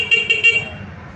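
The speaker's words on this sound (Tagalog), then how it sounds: "connect natin yung busina" A Honda Click 125 scooter horn honks three quick times up close, short sharp toots over a low engine hum.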